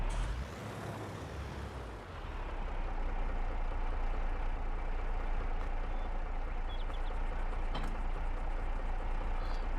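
Tractor engine in the video game Farming Simulator 22 cranking and catching after a brief hiss, then settling into a steady, rough, low rumbling idle that runs loudly to the end.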